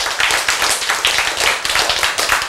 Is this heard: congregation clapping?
yes